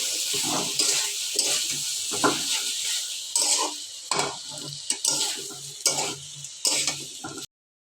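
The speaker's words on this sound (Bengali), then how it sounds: "এখন একটু নাড়াচাড়া করে মশলার সাথে মিশিয়ে নেব" Small baim fish frying and being stirred with spices in a pan, a steady oil sizzle broken by repeated scraping strokes of a spatula, close up, with no talking.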